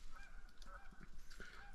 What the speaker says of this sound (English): Now it sounds like that flock geese kept moving on.